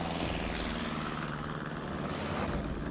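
A light aircraft engine drones steadily at takeoff power, a continuous, even propeller roar with no talk.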